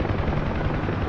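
A Huey helicopter hovering, a loud continuous rotor roar with dense low-frequency throbbing, heard close and unbroken throughout.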